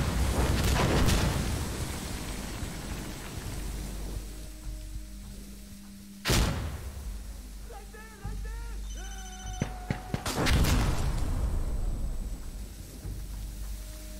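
Incendiary fire in Insurgency: Sandstorm, a low roaring rumble with heavy bursts near the start and around six and ten seconds, mixed with gunfire cracks, radio-like tones and other battle noise.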